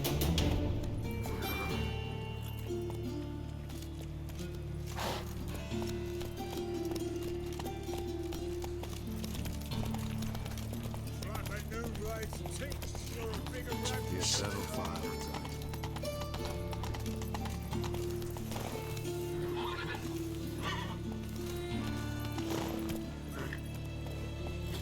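Roach, Geralt's horse in The Witcher 3: Wild Hunt, gallops with steady rhythmic hoofbeats over game music and ambience, the pace held throughout at close range.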